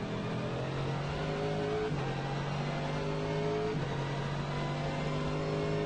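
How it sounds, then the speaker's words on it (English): Kyle Busch's race car at the Rolex 24 at Daytona on an out lap, its engine droning steady and loud from onboard, pitch stepping up through gear changes with no talk. "Pit speed limiter off, fire it up, crank it up, away you go."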